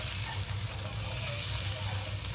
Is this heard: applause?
no